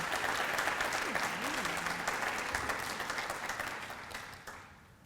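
Audience applause at an MLK Jr. essay challenge breakfast honoring student essay winners, steady clapping from a room of people that gradually thins and fades toward the end, with a brief voice rising over it early on.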